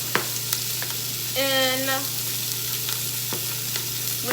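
Chopped baby portobello mushrooms sauté in an Instant Pot, a steady close sizzle with a brief stirring scrape and a few clinks of the utensil.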